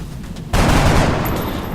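Gunfire in the turn-based tactics game XCOM: Enemy Within, a sudden loud fusillade that erupts after a quiet moment and keeps roaring close up until the clip ends.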